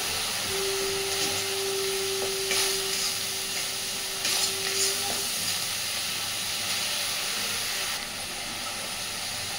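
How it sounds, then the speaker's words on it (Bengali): Masala spice paste stirred and fried slowly in a pan over a low-to-medium gas flame for a fish curry, giving a steady broad sizzle and hiss throughout with a brief tonal whine partway. "মশলাটাকে খুব সুন্দর করে একটু সময় নিয়ে কষাতে হবে"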